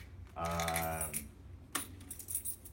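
Several sets of keys on a ring with a small key fob are handled up close, giving a steady rustle and then sharp metallic jingles and clinks.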